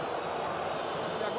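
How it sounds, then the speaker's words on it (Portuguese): Botafogo supporters roar at the Maracanã during the 2016 Carioca final against Vasco, a dense, steady wash of crowd noise filling the stadium without a break. "E agora a torcida do Botafogo faz barulho."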